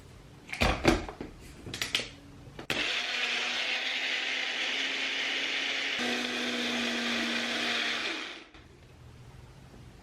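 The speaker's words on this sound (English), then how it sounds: "my little blender here" Small blender blending hot milk for a latte, starting with a few clicks and knocks, then a loud, steady whirring motor drone for about six seconds that shifts slightly midway before cutting off.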